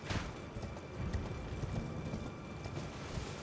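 Horse hooves clip-clop steadily on the ground in the video game Elden Ring, a quick even rhythm close by and moderately loud, with no talking over it.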